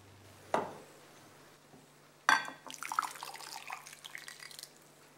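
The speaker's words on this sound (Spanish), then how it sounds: "Agua caliente" A hot water tap in a home hair-care routine gives two sharp knocks, then water starts running and splashes unevenly for a few seconds, close and moderately quiet, with no one speaking.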